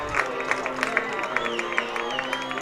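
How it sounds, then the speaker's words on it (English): Crowd noise at a boys' high school lacrosse game during a timeout, a sustained murmur of fans with scattered claps and shouts at moderate distance. "the crowd here is ecstatic for their Rangers"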